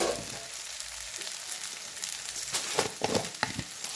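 Pizza pasta sauce and tomato sauce with a little sugar stirred in a pan for a potato pasta, giving a soft, steady sizzle with occasional clinks and scrapes of the spoon.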